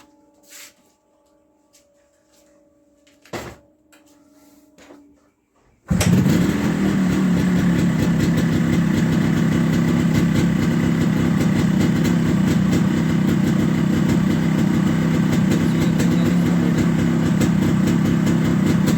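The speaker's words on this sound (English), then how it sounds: "Start the bike and show you how it works." A Yamaha RX100 motorcycle engine kicks into life after a few quiet clicks and handling noises, then settles into a loud, steady idle that runs uninterrupted to the end.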